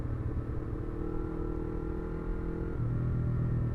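Yamaha R25 250cc motorcycle cruising slowly on a smooth road, a steady low engine rumble with a shift in tone near the end, close and continuous, no talking.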